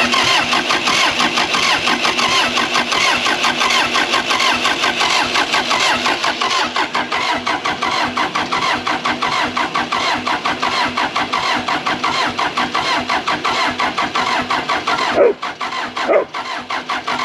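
An old Case 450B bulldozer diesel engine cranks and catches, then runs at a steady, loud clattering idle for a long stretch before a couple of brief knocks and a dip near the end.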